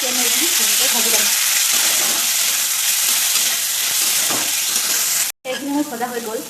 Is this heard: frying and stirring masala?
yes